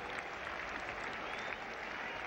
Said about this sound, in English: Applause too from his opponent's England team.